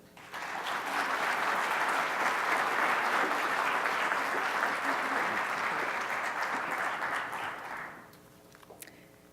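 An audience applauds steadily to welcome a plenary speaker, Dr. Ann Goodman, with dense, loud clapping that holds for about eight seconds and then quickly dies away to a few scattered claps.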